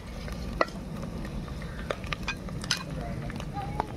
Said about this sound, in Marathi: कांदा लसणाची पेस्ट झालेली आहे. तर मी हळद मसाला टाकून घेते.